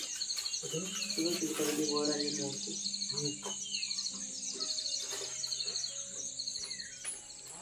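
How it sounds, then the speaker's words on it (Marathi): Loud, busy birdsong with repeated chirps and calls and a steady insect-like trill underneath, birds calling close by in a lively outdoor setting. "तो बघा हॉर्नबिल पक्षी बघा"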